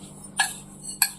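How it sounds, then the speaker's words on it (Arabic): A spoon clinks twice against a pot while lentils and rice are stirred together for Alexandrian koshari. The two sharp, bright taps come about half a second apart over a faint background hum, and no one speaks. "هنقلبه كده"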